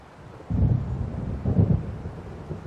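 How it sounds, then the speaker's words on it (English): Thunder of an approaching storm in Alan Wake Remastered: two deep rumbling rolls, the first starting abruptly and the second swelling a second later, over a low bed of rain and wind. "It seems there's a storm coming."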